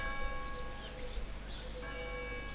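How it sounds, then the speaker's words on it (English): Church bells ringing at midday in a small French village, sustained ringing tones heard at a moderate distance over faint outdoor background. "The joys of a small French village is that the bells still rang at the church at midday."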